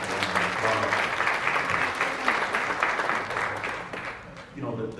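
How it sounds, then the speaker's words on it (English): Audience applause at a housing summit session in Memphis fills the room steadily for about four seconds, then thins briefly before a short renewed burst; talk and voices can be heard mixed beneath the clapping. "So if you don't mind giving yourself a round of applause."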